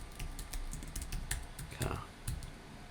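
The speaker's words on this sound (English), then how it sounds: "Just click tab on the keyboard, go through." Rapid clicks from a computer keyboard, with irregular keystrokes and tab presses running through the stretch, and a person talking over them.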